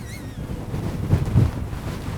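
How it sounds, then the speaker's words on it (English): Gusty wind buffets the microphone outdoors while a DJI Avata drone flies, a steady low rumble swelling in two stronger gusts near the middle, with no voices. "it just got windy out of nowhere."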